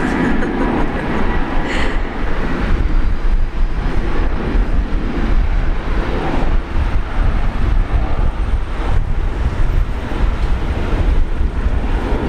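Jetstar airliner jet engines roar loud and steady at Brisbane airport in heavy rain, a broad continuous rumble mixed with the hiss of rainfall throughout.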